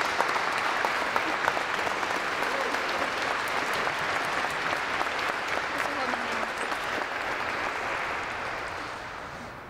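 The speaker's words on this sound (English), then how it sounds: "Give him a round of applause." Wedding guests applaud together in a sustained, dense round of clapping that fills the room at steady loudness before tapering slightly at the end.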